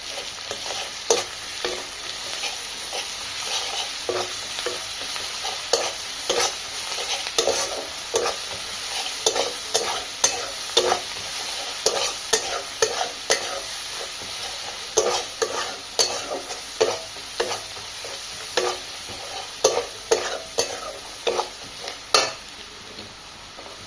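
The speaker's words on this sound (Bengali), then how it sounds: "পেঁয়াজগুলো ভাজা হয়ে গেছে, এবার রসুন বাটাটাকে দিয়ে দেবো।" Onions and garlic paste sizzle steadily in hot oil while a spoon stirs them in a pan, with repeated scraping strokes, for a Bengali katla fish kalia. Close and continuous, with no talk.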